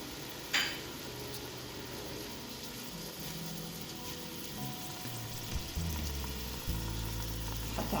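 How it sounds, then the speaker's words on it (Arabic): Bouzlouf fries in a pan with onion, tomato and chickpeas, giving a continuous crackling sizzle with occasional knocks and scraping stirs and no talking. "نخليه يتقلى شويه"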